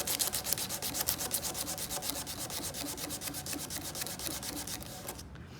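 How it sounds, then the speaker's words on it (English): Folded sandpaper is pushed along the edge of an acrylic sheet, giving a fast, even series of close scratchy rasping strokes in a steady rhythm that stops abruptly at the end. "So just fold the piece of sandpaper in half, hold it flat up against the edge you want to sand,"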